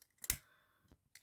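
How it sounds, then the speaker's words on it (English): Scissors give a single crisp snip through hair bow ribbon, followed by a couple of faint clicks, quiet and close. "bring it round again, and then snip off"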